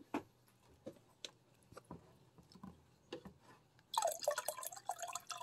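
Water trickles and splashes into an electric kettle being cleaned, starting as faint scattered drips and ticks, then turning into a louder, steady pour near the end.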